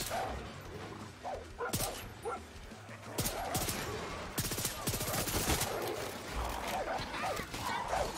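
Dogs bark repeatedly in the video game Far Cry 6 amid bursts of gunfire, a busy, loud mix of sharp yaps and rapid shots.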